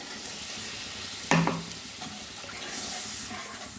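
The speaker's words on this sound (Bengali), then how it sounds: "মশলা থেকে তেল ছেড়ে দিয়েছে আমি ঝোলের জন্য জল দিয়ে দিলাম" Water splashes into hot fried spice masala for a fish curry, giving a sudden loud hiss and sizzle that quickly settles into a softer, lingering simmer.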